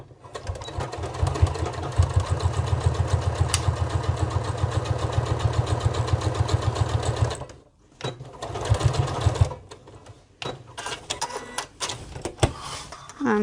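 A sewing machine runs steadily for about seven seconds while stitching a shoulder pad for a crossbody bag strap at a long stitch length, then stops, gives a shorter burst, and ends in quieter handling noises.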